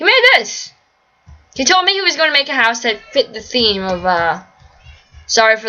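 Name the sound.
cats meowing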